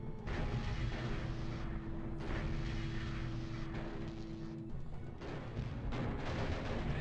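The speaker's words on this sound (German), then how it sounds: "Oh. Ah, explodiert." A mech blows apart in the MechCommander Darkest Hours game: a dense, roaring explosion with a steady low rumble that lasts the whole stretch, loud and unbroken, with a sustained tone fading out partway through.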